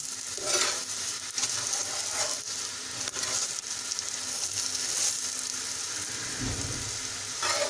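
A radish (mooli) paratha fries in ghee on a griddle, giving a steady, close hissing sizzle with faint crackles throughout and no voices.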